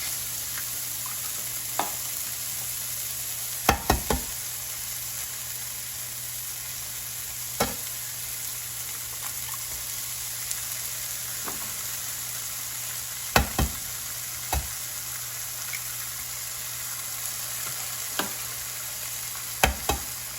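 Eggs frying with tomatoes in a pan, a steady close sizzle running throughout, broken by occasional sharp clacks and scrapes of stirring spaced several seconds apart.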